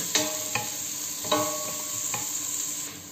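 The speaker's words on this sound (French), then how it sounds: "on va mettre juste les oignons et on va les faire revenir" Onions sautéing in butter and oil for a red lentil soup, a steady close sizzle broken by a few sharp scrapes and knocks of a utensil stirring the pan.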